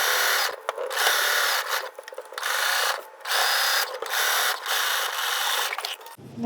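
A sewing machine fitted with an even feed foot and stretch thread stitches in repeated bursts of steady whirring, separated by brief pauses, close and fairly loud.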